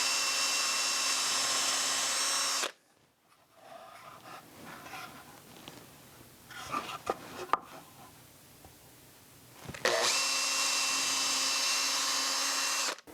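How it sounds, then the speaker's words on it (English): A power drill boring pilot holes for mounting screws, with two loud, steady high whines at the start and end, separated by quieter handling clatter and a few knocks, no talk. "so now we're just going to do pilot holes from the inside out to where the mounting screws will go eventually"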